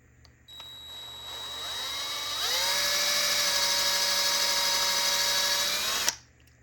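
A power drill bores through the base of a Hot Wheels die-cast toy car, whining steadily and close up, rising in pitch as the bit spins up and cutting off abruptly at the end.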